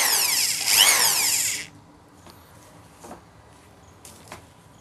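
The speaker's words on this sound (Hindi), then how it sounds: "ये हमारी गन है, इसमें हम इसको बांध लेते हैं और ये लेथ की तरह ही वर्क करता है" A handheld power tool gun spins a part from a Hyundai Xcent steering motor like a lathe for cleaning, giving a loud, high whirring burst of under two seconds that then stops, leaving faint scattered clicks.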